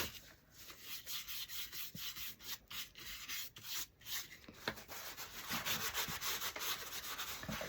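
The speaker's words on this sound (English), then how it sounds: "I'm going over this first with some clear wax." Clear wax rubbed by hand onto a cardboard craft bucket, producing close, soft, irregular scraping and brushing strokes heard alone.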